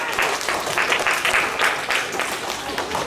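Children at a school assembly clap for a Class 1 class, a dense, steady wash of small hands applauding together throughout, close and loud with no pauses.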